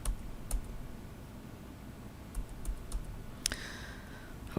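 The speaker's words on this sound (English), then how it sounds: "I'm just going to hit Control and Z on my keyboard for a bit" Computer keyboard keys pressed repeatedly for a Control-Z undo: a handful of sharp, isolated clicks spaced irregularly over a quiet room background.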